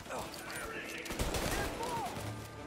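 Gunfire in a Mafia Definitive Edition shootout against gangsters, scattered shots crackling through a busy game mix with talk over the top.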